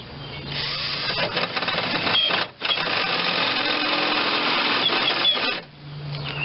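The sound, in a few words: drill with a stripped chuck tightening a bolt on a Geo Metro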